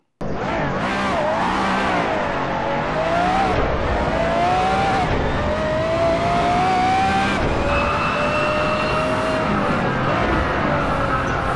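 A Pagani Zonda supercar in the Assetto Corsa racing game, lapping the Nordschleife: a loud, continuous engine drone climbing and dropping through gear changes with rising revs and shifts, near and steady throughout, with no talk over it.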